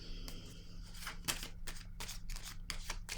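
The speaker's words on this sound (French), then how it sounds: "Je vais piger une autre carte." A tarot card is drawn from the deck, giving a series of quick papery slides and soft flicks with a few sharper snaps, close and fairly quiet over a low steady hum.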